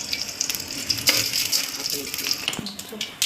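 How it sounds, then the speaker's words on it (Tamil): Mustard seeds sizzling and crackling in hot oil for a lemon rice tempering, a bright continuous fry with scattered sharp pops up close, under faint background voice. "எண்ணெய் காஞ்ச உடனே கடுகு"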